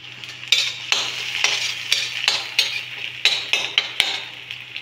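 Onion frying in a pan for village-style radish parathas: a steady soft sizzle under repeated rhythmic scrapes and clinks of a spatula stirring against the metal, heard up close without talk.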